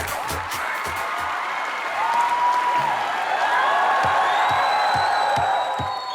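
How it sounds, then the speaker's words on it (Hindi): Loud studio audience applause with cheering and whoops on a Hindi TV comedy show as a film star is called out, steady dense clapping throughout with shouts rising over it, no speech. "अब मैं बुलाना चाहता हूं आपकी जोरदार तालियों के बीच द किंग खान, शाहरुख खान"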